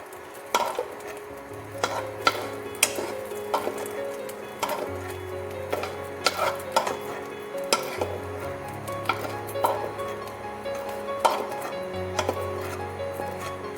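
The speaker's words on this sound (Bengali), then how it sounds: "সব ডিম আমি তুলে নিলাম।" Scrambled eggs are scraped and scooped out of a wok with a metal spatula, giving repeated sharp clinks and scrapes over a low steady hum, close and fairly loud, with no talking.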